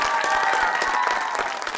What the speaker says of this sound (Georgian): აპლოდისმენტები კიდევ ერთხელ პატარებ